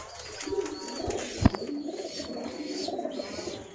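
Racing pigeons at a breeder's loft coo in soft, low, rounded calls that repeat unevenly, with a sharp knock partway through and some faint chirps above the cooing, all fairly quiet with no talk.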